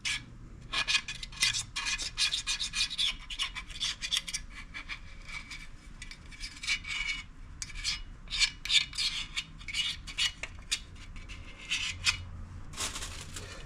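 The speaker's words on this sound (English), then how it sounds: "we'll take our little razor blade. We'll come right over hither and we'll scrape this off into the trash can." A razor blade scrapes old RTV silicone off the valve cover of a Craftsman DLT3000 riding mower in a shop, making continuous gritty rasping strokes in quick bursts that run nearly throughout.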